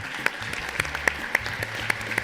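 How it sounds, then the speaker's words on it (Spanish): An audience at an Expo EVA 2023 session in the Sala Argentina at the CCK applauds briefly, with scattered distinct claps standing out over a low background. "Un aplauso para ella, que nos fumó este año terrible."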